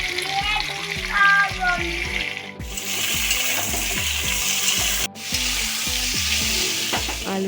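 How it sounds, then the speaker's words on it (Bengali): Potatoes go into hot oil tempered with split chillies, setting off a loud, steady frying sizzle, with rhythmic spoon clinks against the pan and a brief sharp clatter partway through. "ফোড়নটা হয়ে গেছে, আলুগুলো দিয়ে দিচ্ছি।"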